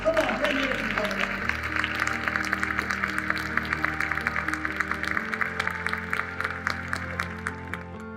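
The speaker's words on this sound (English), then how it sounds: "Give yourselves a round of applause" An audience applauding after a motivational speech, with dense, sustained clapping close by under a continuous musical tone and some voices.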